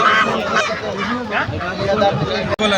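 Ducks and fowl at a busy Sunday poultry market honk and cackle repeatedly at close range, mixed with people talking nearby.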